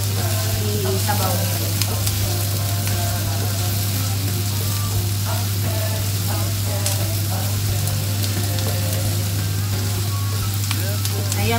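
Onions browning and sizzling in a pan for a Filipino kare-kare dish, a steady loud fry with crackling pops and occasional stirring scrapes throughout, no talk.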